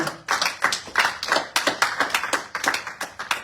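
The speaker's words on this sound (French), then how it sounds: "Voilà, nous acclamons." A church congregation applauding, a dense run of rhythmic hand claps, close and steady, keeping an even pulse for several seconds with no talk over it.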